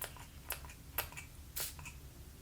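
A few short sprays from a fine facial mist bottle, with three or four brief hissing puffs spaced apart, close and fairly soft over a quiet room background.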